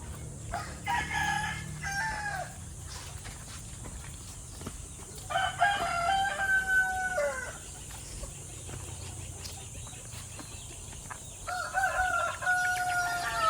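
Roosters crow in three loud bursts with hens clucking between them, set against a steady background hiss and low rumble.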